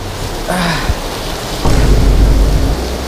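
Heavy rain pours steadily in Singapore as a thunderstorm breaks, with a loud, deep rumble of thunder swelling midway and the downpour hissing continuously throughout.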